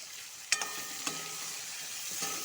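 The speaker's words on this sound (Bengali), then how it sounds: "আলুটা ভালো করে ভেজে নিব" Small diced potatoes frying with salt and turmeric in a pan, giving a low steady sizzle and a few sharp clinks of the spoon against the pan, with no talking.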